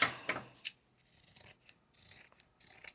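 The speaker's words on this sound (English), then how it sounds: "the ends need to get trimmed down a little bit" Scissors snip and trim a circle of material for repotting carnivorous butterworts, a few sharp crisp cuts followed by softer rasping rubs, close and quiet with no talk.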